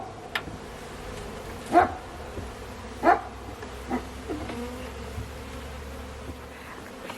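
A steady low hum of honeybees around an opened hive, with several louder buzzing swells as bees pass close by, over a faint background.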